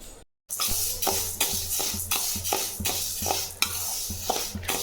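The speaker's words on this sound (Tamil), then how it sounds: "நம்ம அந்த கொள்ளை வறுத்து எடுத்துக்கலாம்" Horse gram seeds being dry-roasted and stirred in a pan, a close, steady scraping and rustle of the stirring with a light sizzle, repeating in regular strokes after a brief silent start.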